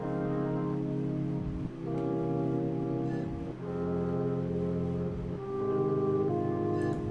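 Slowed, halftime sampled chords pitched an octave lower and widened in stereo form a dense, sustained harmonic bed, shifting chord every couple of seconds with no talking.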